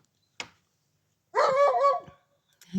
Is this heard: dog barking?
yes